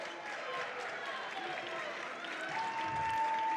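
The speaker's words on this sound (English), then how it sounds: "This Bergman crowd is getting into it here." A high school basketball crowd roars steadily during a Bergman vs. Lamar game, a broad continuous cheer that swells slightly toward the end under a commentator's talk.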